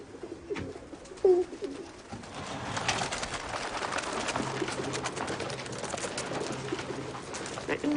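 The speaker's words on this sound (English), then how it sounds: "I need to let my birds out. They need exercising." Pet pigeons let out of their loft coo and stir close by, soft bird calls and fluttering mixed with a brief loud sound early on and outdoor background noise.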